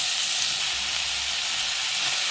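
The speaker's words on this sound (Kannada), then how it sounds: "ಕಟ್ ಮಲ್ತಿನ ಮಶ್ರೂಮನ್ನು ಎಣ್ಣೆ ಪಾಡ್ದು ಫ್ರೈ ಮಾಡ್ಕೊಡು" Chopped mushrooms sizzle in hot oil in a pan, a steady, close, broadband frying hiss with no talking.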